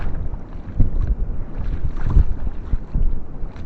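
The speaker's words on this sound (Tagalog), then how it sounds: "Lakas yung hangin." Strong wind buffets a small boat out at sea, roaring gusts and microphone rumble swelling and dropping with a few knocks and splashes, no voices heard.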